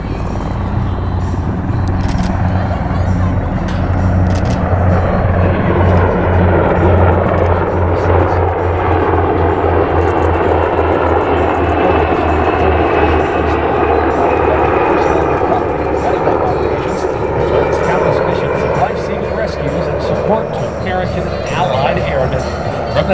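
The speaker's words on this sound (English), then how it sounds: "the F-16 Fighting Falcons, better known as the Vipers" F-16 Fighting Falcon jets flying past at a combined arms air power demonstration at Nellis AFB, a loud, sustained roar that slowly rises and falls, with an announcer talking over it.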